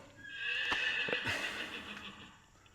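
A horse gives a single drawn-out whinny, heard faint and somewhat distant through a noisy background, with no one speaking.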